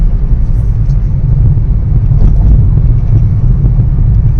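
A car drives along a road, with a constant low rumble of engine and tyres and some wind buffeting on the microphone, loud and close from inside the moving vehicle.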